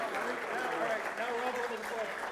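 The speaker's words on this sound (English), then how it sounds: "So give them a round of applause." An audience applauds contestants at a couples weekend event, a steady wash of clapping that is moderately loud with a voice talking over it.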